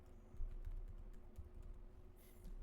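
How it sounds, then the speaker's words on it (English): An email address is typed into an input box on a computer keyboard, producing soft, irregular key taps at close range over a faint steady hum, with nobody speaking. "go ahead and type that personal email into this input box here"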